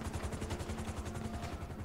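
A helicopter in the video game GTA 5 beats with fast, regular rotor chops, a continuous rhythmic thumping heard alone and fairly close.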